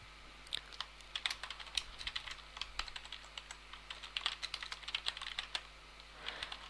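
Someone types a password on a computer keyboard, a quiet, irregular run of close key clicks and taps with no talking.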